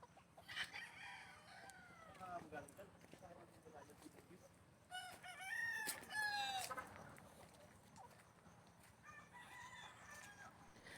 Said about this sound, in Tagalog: nakasunod na naman sa akin ang mga manok